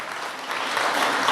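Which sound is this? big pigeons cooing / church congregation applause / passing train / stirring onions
church congregation applause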